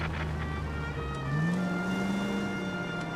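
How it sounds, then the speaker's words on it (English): A smooth, steady fast-car engine drone in the video game L.A. Noire, its pitch climbing and then holding high, with faint background hiss and no voices. "It sounds like a fast car."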